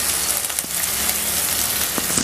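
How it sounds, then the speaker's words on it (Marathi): Onion frying in a pan with a sprinkle of salt for a chicken gravy, giving a steady close broadband sizzle with a few faint clicks, no talking. "थोडंसं मी याच्यावर मीठ टाकते जेणेकरून लवकर आपला कांदा फ्राय होईल"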